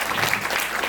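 Audience applause for a missionary at a Korean mission conference, a steady, full burst of clapping filling the whole moment without any voices over it.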